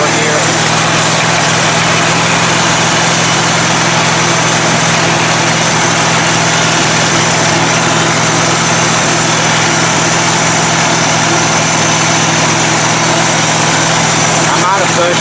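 An off-road tractor engine runs rough after damage to its carburetor, a loud continuous mechanical drone close by that holds steady throughout with no clear speech.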